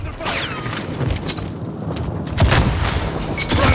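Gunfire and impacts crackle during a Call of Duty Warzone match in Verdansk, dense bursts of shots and booms layered over a constant busy game din.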